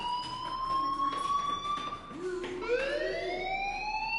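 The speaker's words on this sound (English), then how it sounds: "Hey, do you hear that fire alarm?" An electronic fire alarm in the video game Life is Strange wails with steady, high sustained tones and rising sweeps, loud and continuous over faint background murmur.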